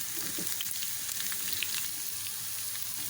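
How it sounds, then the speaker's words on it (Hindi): Cumin seeds tempering in hot oil in a pan for a red lentil dish, a close, steady sizzle with fine crackles and pops, continuous and even, with no talking. "ये पैन में हमने गरम कर लिया है ऑयल और इसमें ये ज़ीरा डालेंगे, बघार डालेंगे"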